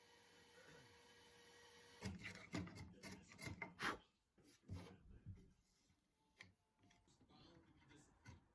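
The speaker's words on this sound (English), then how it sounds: "I'm just clearing those out with a nice sharp chisel" A sharp chisel scrapes and pares saw tracks out of solid oak, with a quiet stretch followed by a burst of short, irregular rasping strokes and taps close by, tapering into scattered lighter scrapes.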